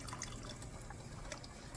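Mushroom broth poured into a pan holding beef bourguignon ingredients, a steady close liquid splash and trickle that runs the whole time at low volume, with no talking.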